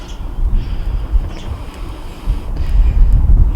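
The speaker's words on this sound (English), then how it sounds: "At least we're getting the wind for it." Wind buffets an outdoor fire-lighting spot with fatwood, making a loud, low rumbling roar close on the microphone that swells and eases throughout, with no voices.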